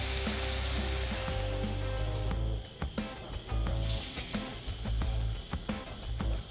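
Saba bananas fry in a pan with a steady, loud sizzle, broken by short clattering stirs and brief dips where the hiss drops away, no voices.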